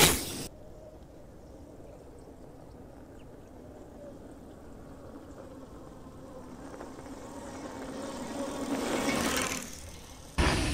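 An LMX 64 electric bike fitted with a belt drive rides off-road through muddy woods, giving a steady low mechanical hum and whir with squelching texture that builds louder toward the end, with no talking.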